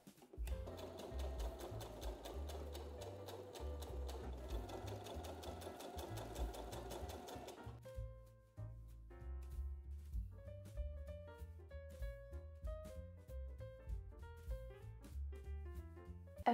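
A sewing machine stitches fabric for a heart-shaped bag, sewing small squares into bands at a narrow 0.1 cm margin, with a fast rapid-fire needle rhythm that runs steadily, close and clear, under soft background music.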